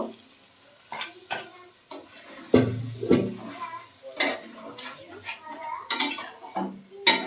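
Boiled peas being stirred into cooked spice masala in a pan, with a spoon repeatedly scraping and clattering against the metal in irregular strokes, alongside soft sizzling.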